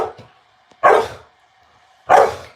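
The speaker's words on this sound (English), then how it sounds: "why are you barking at him?" A dog named Dylan barks twice, loud and close, each bark a short harsh burst about a second apart, with a few faint yips and a low whine before them.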